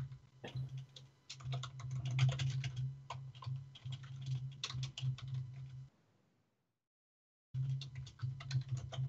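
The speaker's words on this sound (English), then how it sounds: "your keyboard's even louder than mine" Rapid typing clatters on a computer keyboard in busy bursts, pauses for a moment of silence, then resumes, all against a low hum.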